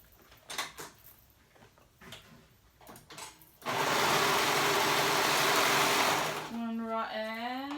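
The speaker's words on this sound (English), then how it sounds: "And we're gonna sew those raw edges." A sewing machine stitches the raw edges of a jumper in a loud, continuous whirring run of about two and a half seconds, preceded by quieter handling noises, with a voice speaking afterward.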